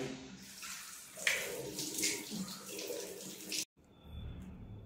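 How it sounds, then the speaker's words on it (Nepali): Water is poured steadily into a cooking pot at home, a close, continuous splashing flow with a few brighter splashes, ending suddenly and followed by a softer, duller low rumble. "पानी हाल्छु"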